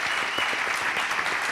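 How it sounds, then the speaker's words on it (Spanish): A crowd at an interview event breaks into strong, dense applause for Ricardo Moya, many hands clapping loudly and continuously throughout the short stretch. "un fuerte aplauso para él."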